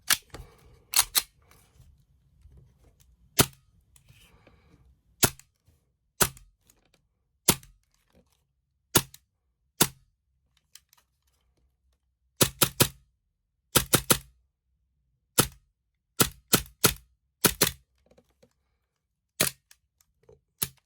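A Tokyo Marui V10 Ultra Compact gas airsoft pistol dry fired, with sharp snapping clacks of the slide, some single and some in quick pairs or bursts, close and loud against near silence.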